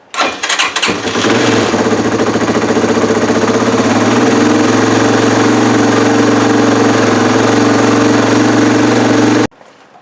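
A Yamaha XT225 motorcycle engine starts with a brief cranking burst, then runs loud and steady at a fast idle for about nine seconds, close by, and cuts off abruptly near the end.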